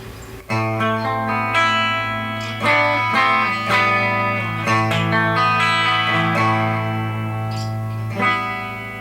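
An electric guitar plays through a Marshall JVM210 tube amp with its volume knob rolled back, sustained chords ringing with light crunch and slowly shifting, loud and close with no talk.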